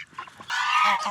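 Farm geese give a short burst of loud, close honking, a few quick calls rising into one sustained honk.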